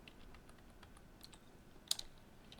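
Terminal command typed on a computer keyboard, a quick run of faint, close key taps with one sharper click near the end.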